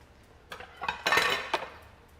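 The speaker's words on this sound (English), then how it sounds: "let's bring out our ham and then a plate so I can cut off slices of it" A plate is set out and ham handled for slicing, making a run of clinks and clatters of crockery that build to a louder cluster and then trail off.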